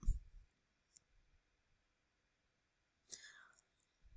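A computer mouse gives a few faint, sharp clicks, one at the start and another about three seconds in, set against near-silent room tone.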